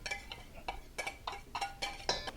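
Spoon stirring a jalapeno corn dog batter in a bowl: a faint, steady series of soft scraping clicks repeating about every quarter second, close by and alone.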